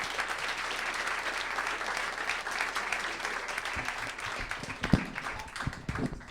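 A stand-up comedy club audience applauds a comedian, sustained dense clapping from a crowd that carries on steadily before thinning toward the end, with a few louder individual claps standing out.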